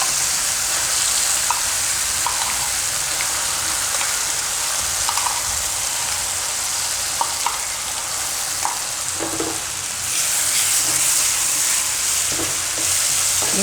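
Gravy of paneer, coconut and cream curry sizzling and frying steadily in hot oil in a pan, a continuous close crackle with occasional stirring scrapes, growing brighter near the end.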